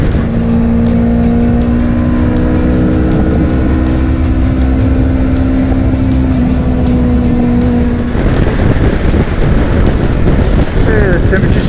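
A Kawasaki Versys X300, a small motorcycle, rides through strong gusty wind, its steady engine drone buried under loud continuous wind roar and buffeting that grows harsher toward the end.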